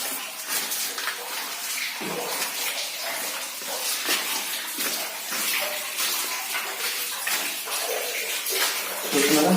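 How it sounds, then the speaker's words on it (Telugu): Patala Ganga water flowing through the Belum Caves, an unbroken broad rushing wash that holds steady and close throughout, with faint voices mixed beneath it. "చూస్తున్నారా వాటర్ ఎలా వస్తున్నారు"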